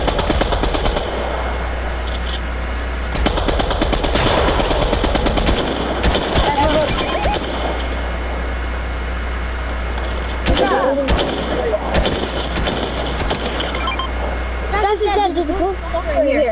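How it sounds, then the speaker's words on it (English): Rapid automatic gunfire bursts in the Fortnite video game, dense rattling volleys with thuds and pauses between them, loud over constant game ambience while players talk. "Gunfire's coming over here"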